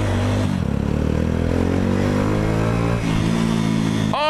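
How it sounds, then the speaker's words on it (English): A motorcycle engine runs loud and close with a steady rumbling drone, dipping briefly before picking back up. "Oh, the sound of this bike."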